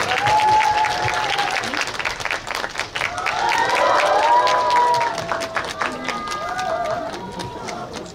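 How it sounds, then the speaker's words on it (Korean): A crowd at a cinema stage greeting in Lotte World Tower claps and cheers steadily to welcome the film's actors, a dense roar of applause with scattered voices and whoops throughout. "뜨거운 박수로 맞이해 주시면 감사하겠습니다"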